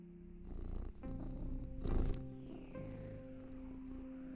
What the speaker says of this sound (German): Wie schön das Schnurren.